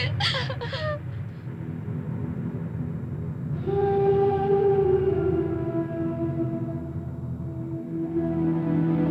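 An ambulance siren wails steadily in the distance, a sustained rising tone beneath a low rumble, following a brief high chirping at the start.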